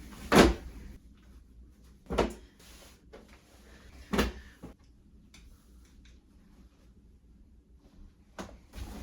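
A bedroom drawer in a New York City apartment slides open and shut during unpacking, giving several separate sharp wooden knocks and bumps, nearby and moderately loud, with quiet room tone between them.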